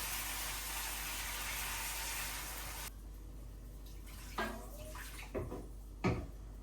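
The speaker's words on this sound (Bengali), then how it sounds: "ঝোল গরম জলটা দিয়ে দিলাম" Hot water poured into a pot of browned meat curry to make the gravy: a steady rushing pour for about three seconds cuts off abruptly, followed by a few light clunks of a pot or utensil in a quieter kitchen.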